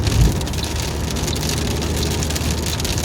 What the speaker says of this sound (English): Oh, it's hail.